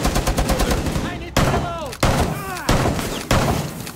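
Gunfire in Rainbow Six Siege on the Kanal map, with rapid bursts of automatic rifle fire and sharp single shots spaced roughly every second, loud and close, over a bed of game noise.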